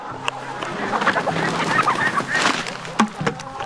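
Chickens and ducks calling in a busy farmyard at feeding time, with honking and clucking notes overlapping in a steady din, a few louder calls standing out near the end.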